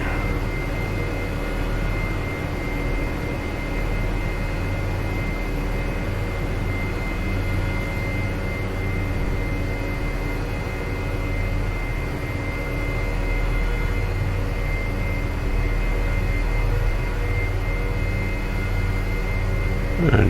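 Helicopter engine in the Prepar3D flight simulator as the aircraft sets down on a helipad at Vancouver International Airport, a steady droning rotor and turbine hum with tonal bands, constant and fairly loud throughout, no talking.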